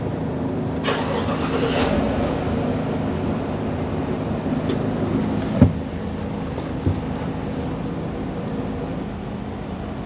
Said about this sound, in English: Now we're going to start the vehicle and bleed off the pressure off the fuel system.